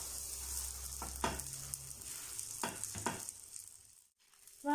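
Hawawshi frying in a little oil inside a covered pot, a steady soft sizzle with a few brief clatters and a short gap near the end.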